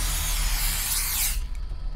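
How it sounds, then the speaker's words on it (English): Rat-killing spray hisses from a can inside a video game convenience store, one continuous loud spray burst lasting over a second before cutting off to quiet game ambience. "is this like kill rat spray?"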